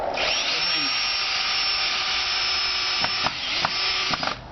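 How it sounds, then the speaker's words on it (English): Power drill driving a long screw into timber, a steady high whirring motor held for several seconds, ending in a few short bursts as the screw seats. "at least one long screw to go through the back and into the timber"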